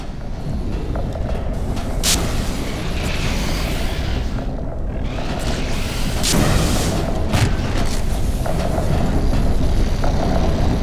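Grenade blasts in the video game Half-Life 2 Episode Two, with heavy booms and sharp bursts recurring over a constant loud rumbling background of gunfire and action.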